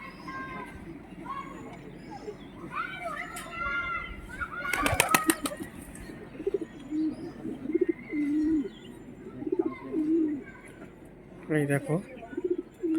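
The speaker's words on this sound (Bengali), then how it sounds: "এটা হচ্ছে 3 তলার উপরে পায়রার ঘর আছে। পায়রা ছাড়া আছে" Pigeons in a pigeon house on a third-floor rooftop cooing repeatedly nearby, with chirps and bursts of wing flapping, while a person talks briefly.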